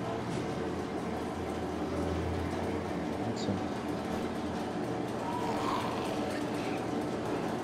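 Rumbling, clanking machinery of a train-like elevator mechanism in the video game Left 4 Dead 2, with a dense, continuous mechanical drone and rattle and a few faint metallic clicks, steady and fairly loud.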